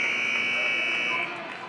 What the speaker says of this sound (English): The buzzer's going to sound before icing